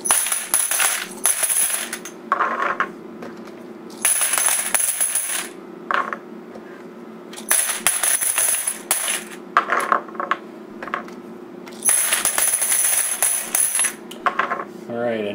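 90% silver quarters, a $100 face value stack, spill and rattle in close, loud bursts of bright clinking metal, with a few brief pauses and scattered single coin clinks between pours.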